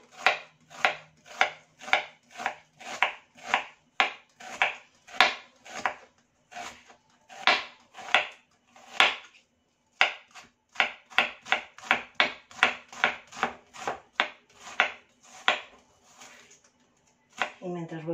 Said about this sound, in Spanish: Luego la vamos a hacer con una juliana bien finita.